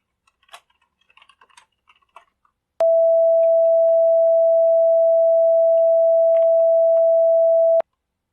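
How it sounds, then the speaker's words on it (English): Light computer-keyboard taps precede a steady synthesized sine tone, higher in pitch, holding constant and loud for about five seconds with a few faint clicks beneath before cutting off sharply. "Since Y2 has a higher frequency, it creates a higher pitched sound."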